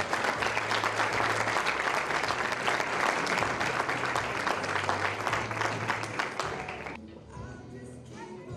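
A graduation ceremony crowd breaks into loud, sustained applause, with dense clapping and a faint voice underneath, then the clapping thins abruptly near the end.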